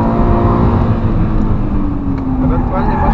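A 2007 Subaru Impreza 2.0 with 160 hp accelerates hard at full throttle on a race track, the engine note climbing steadily and loud from inside the car, with a few clicks and thumps.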